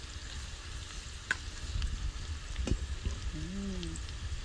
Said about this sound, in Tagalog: Saute ko pa yung sibuyas.